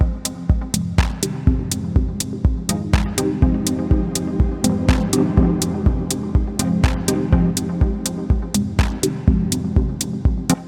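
Dub techno chord stabs built in Ableton with Wavetable and Echo, played through a warm hall reverb: steady rhythmic stabs with sharp attacks and long smeared tails, loud and continuous with no voices.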